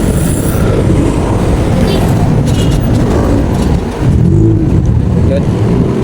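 A car passes on a road while a rider is out on a Yamaha Aerox scooter, the steady engine and wind noise loud and close throughout, with a brief dip before the roar returns.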